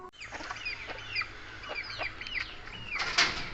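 Rhode Island Red chicks cheep and cluck in a steady run of short, high chirps close by, with a brief flutter near the end and no voices.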